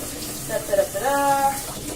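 Kale gets washed under a running kitchen tap, a soft steady stream of water with brief splashes as leaves move, alongside someone speaking.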